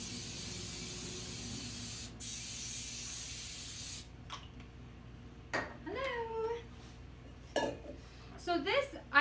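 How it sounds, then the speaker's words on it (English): Cooking spray hissing onto sliced zucchini in a home kitchen, one steady burst of about four seconds, followed by a quieter short spritz and then someone talking. "I'm just gonna spray it."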